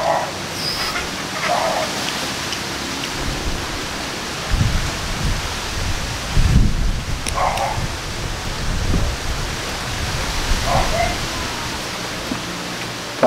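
Strong wind gusting outdoors, a steady broad roar with heavier low buffeting surges throughout, loud and continuous with occasional faint voices.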